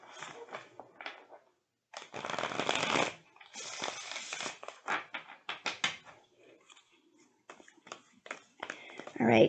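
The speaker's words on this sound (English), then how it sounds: "Well, I'm going to shuffle all the cards." A full deck of tarot cards is shuffled up close: one long riffle, then a run of shorter bursts and handling taps, with quiet speech mixed in between.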